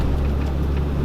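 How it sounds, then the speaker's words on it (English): A low, steady engine rumble of a moving car, continuous and fairly loud, with no voices. "You hear my vehicle?"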